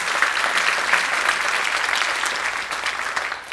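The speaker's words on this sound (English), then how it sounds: "Let's give them a big round of applause." An audience at a jazz camp student performance applauds steadily, a dense, even wash of clapping that holds at full strength for the whole stretch with no voices over it.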